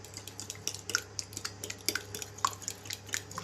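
A spoon beats a yogurt mixture, with tempering added, in a bowl for perugu pulusu. Quick, irregular clinks against the bowl mix with soft wet squishing, close up and with no talking.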